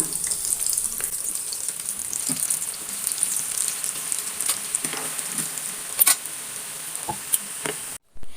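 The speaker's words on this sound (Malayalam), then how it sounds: "അങ്ങനെ നമ്മൾ എല്ലാ ഫിഷ് ബോൾസും വറുത്തെടുത്തു" Fish balls deep frying in hot oil produce a continuous close sizzle with scattered crackles and pops, then a sudden cut to silence before a final burst of bubbling.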